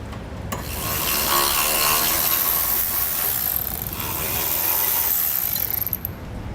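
Ratchet with a 14mm socket loosening the trailer hitch bolt on a 2008 Subaru Forester, a rapid continuous clicking whir heard up close over a noisy background.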